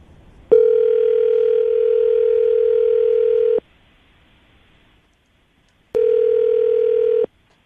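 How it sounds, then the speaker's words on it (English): A steady telephone dial tone sounds for about three seconds, stops, then returns briefly after a pause; no talking. "I'm going to dial the phone number right now"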